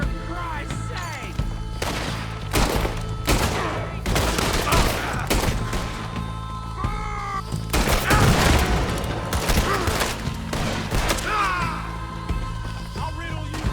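Gunfire in a Red Dead Redemption 2 shootout: repeated sharp, loud shots in irregular bursts and volleys, some clustered rapidly, with shouted voices in between.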